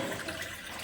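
Hot water, just heated on a gas stove, poured into a glass: a brief, steady splashing trickle, close and fairly soft.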